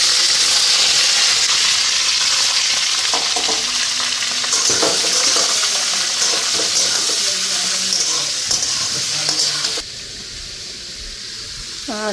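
Whole cumin and bay leaf tempering in hot soybean oil in a wok, a steady loud sizzle and crackle with stirring scrapes, easing off near the end.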